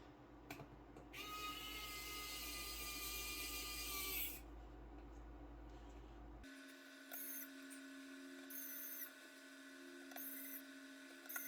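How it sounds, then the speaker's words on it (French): A small electric screwdriver whirs in a high, steady buzz for a few seconds while working on a Samsung Mega 6.3 phone repair, then stops, leaving faint intermittent tonal chirps and clicks. "Je prends mon petit tournevis préféré électrique dont j'adore."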